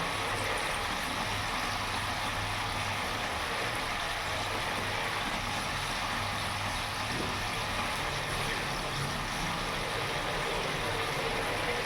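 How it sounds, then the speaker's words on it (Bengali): Rohu fish curry gravy bubbles in a pan over a high gas flame, a steady, close, hissing simmer running continuously without any talking. "ঝোলটা ফুটে এসছে"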